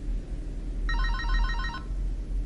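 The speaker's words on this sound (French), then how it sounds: "la sonnerie du téléphone se mit à ronronner" Telephone ringing with a single electronic trilling burst just under a second long, clear and moderately loud over a low background rumble, with no one talking.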